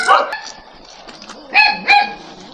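A dog barks nearby in short sharp bursts, a couple of loud yelps standing out, while a person talks outdoors.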